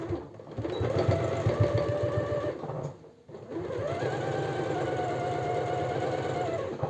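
Sewing machine stitching a white blouse made of natural fabric, a steady rapid mechanical chatter running close and continuous, briefly stopping for a moment before resuming at an even pace.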